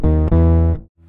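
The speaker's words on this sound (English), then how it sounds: "So here's a bass line. With the effect on and not soloed." Electric bass line played through a MUFX octave divider pedal with the effect blended in rather than soloed, a thick, buzzy distorted tone held steadily before cutting off briefly.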